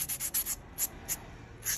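A nail buffer rubs across a fingernail during a gel manicure, making several short, soft scratchy strokes in a quick uneven rhythm, close and faint, with no talk.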